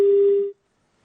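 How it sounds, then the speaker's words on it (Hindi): A single telephone busy tone after a call is hung up, a steady loud beep lasting about half a second before cutting to silence. "आलोक जी ने फोन काट दिया है।"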